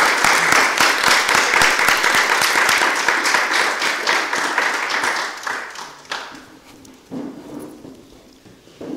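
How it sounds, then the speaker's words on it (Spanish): An audience at a talk applauds with dense, lively clapping that gradually thins out and fades to scattered claps. "Vamos a darles un aplauso."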